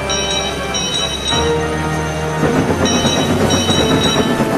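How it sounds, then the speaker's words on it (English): A train engine's bell rings repeatedly over a loud rumbling, clattering locomotive running close by. "The sound of Toby's bell got louder and louder."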